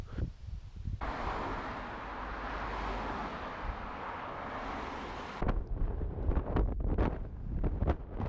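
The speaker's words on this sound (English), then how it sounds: "there is a quite decent wind and it is blowing against me at the moment." Steady, loud wind roars and buffets against the microphone while riding a recumbent e-bike into a headwind at about 30 km/h, a continuous rushing noise that turns gustier and more broken toward the end.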